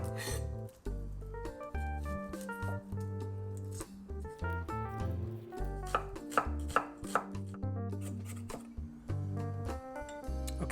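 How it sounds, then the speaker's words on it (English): A knife mincing garlic cloves and chopping shallots taps rapidly on a cutting board, the crisp strikes coming in quick irregular bursts over soft background music. "that's all the mincing and the chopping we need to do"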